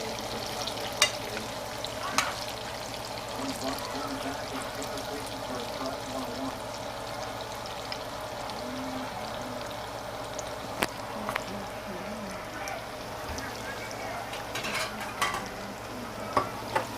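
Salami slices frying in a pan, a continuous moderate sizzle with a few sharp clicks and stirring sounds scattered through, a faint voice now and then in the background.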